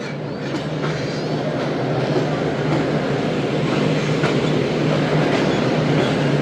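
The Shalimar Express pulls out of Khanpur railway station on its first run in the evening, a loud, continuous close-up rumble and rattle of wheels and cars that holds steady throughout.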